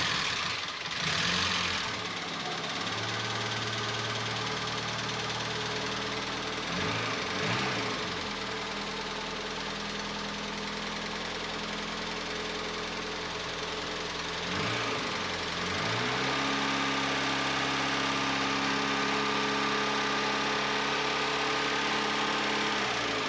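A 1989 Volkswagen Cabriolet undergoing a mechanical overhaul, with leaking hoses, cranks and starts several times, then settles into a steady, rough idle close by amid a broad hiss.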